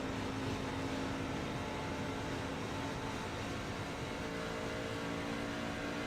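A truck engine in an esports racing video game holds a constant droning, revving tone at a racetrack corner, with a sustained whine and no voices over it.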